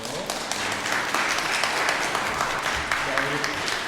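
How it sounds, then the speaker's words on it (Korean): A Korean church congregation at a Christmas thanksgiving service in Montreal applauds, giving a steady wash of clapping that runs evenly throughout while voices mingle underneath. "박수로 여러분 맞아주세요"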